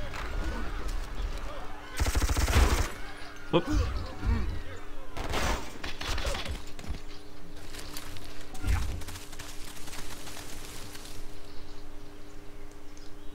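Machine guns fire on civilians in a Civilization V: Brave New World war, heard as several loud, short bursts of rapid gunfire spaced across the stretch, with a brief spoken exclamation and steady game background sound.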